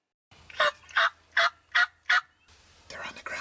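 Wild turkeys outdoors give five quick, evenly spaced gobbling calls close by, followed by a softer, rougher call against quiet ambient noise.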